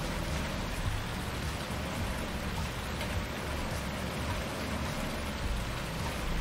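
Steady, even rain hisses in the video game Irgendwo in Thüringen, a constant wash of falling water with no breaks and no talk over it.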